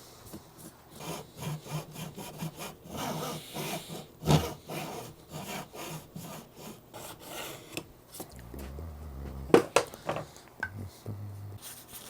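Cleaning out the fret slots of a guitar fretboard by hand, a close, rhythmic rasping and scraping of a tool drawn repeatedly through the wood, with a few sharper knocks near the end.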